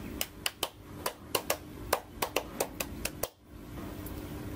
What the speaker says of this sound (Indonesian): Yuk, sama-sama kita lakukan tepuk pramuka.